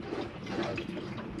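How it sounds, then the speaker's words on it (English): Water gurgles through the refill of a drained-down boiler in a Swift Escape 696 motorhome, a steady, close, bubbling wash of flowing liquid with no talk over it. "It'll just gurgle the water"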